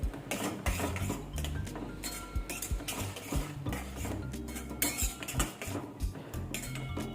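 A spoon clinks and scrapes against a metal pan while cooked dal is stirred with amchur powder and salt for a dal fry. The taps come quiet and irregular, with small bursts of rattling metal.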